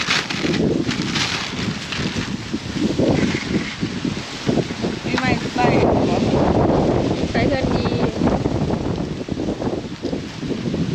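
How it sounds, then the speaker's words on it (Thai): Outdoor wind gusts buffet the microphone in loud, rough bursts throughout, with people talking over the rumbling noise. "พี่น้องคลิปนี้อาจจะได้ยินเสียงลมเลยเด้อ"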